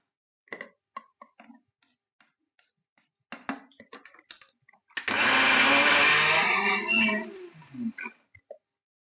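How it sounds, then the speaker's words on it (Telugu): A kitchen mixer grinder whirs for about two seconds, grinding garlic for amla pickle. Scattered clicks and handling knocks come before and after the burst. "ఎల్లిపాయలు వేస్తే మిక్సీ పడతాం"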